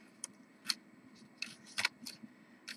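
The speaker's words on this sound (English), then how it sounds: "the next thing you can do is cut lines and cut straight up" Scissors make a series of crisp, close snips while cutting lines for Mardi Gras table decor, with about seven sharp cuts spaced irregularly over a quiet background.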